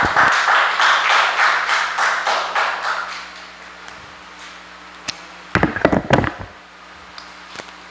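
A church congregation claps in rhythm for the pastor at the close of a service, a burst of steady even claps that fades out after a few seconds, followed by quieter scattered taps and knocks.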